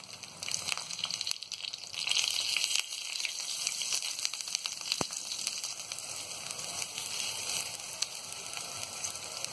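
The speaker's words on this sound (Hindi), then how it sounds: "बैगन को हमें यहाँ तब तक फ्राई करना है जब तक कि अच्छी तरह गोल्डन ब्राउन ना हो जाए" Brinjal (eggplant) pieces shallow frying in oil, heard as a steady, close, hissing sizzle with fine crackles throughout and one sharp tap near the middle.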